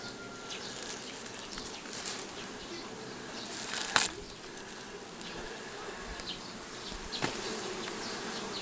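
A dense, steady hum of many bees buzzing close by at a hive, continuous throughout with occasional louder passes.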